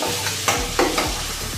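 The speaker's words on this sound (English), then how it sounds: "In this goes straight away 1 teaspoon of red chili powder. It's Kashmiri red chili powder." Kashmiri red chili powder hits melted butter in a pan, a short burst of sizzling with a few quick stirring scrapes and spoon taps, close and alone.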